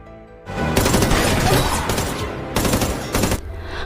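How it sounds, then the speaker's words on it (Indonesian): Gunfire rattles through a film battle scene: dense, loud automatic bursts in close succession, pausing briefly then resuming, with no talk over it. "Agen Su telah berhasil menembak satu persatu anak buah Huang Chi"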